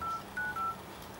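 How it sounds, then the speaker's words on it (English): Phone keypad tones dialing a number, three short clean beeps in quick succession, close and clear, with no voices. "Let me just call my main number"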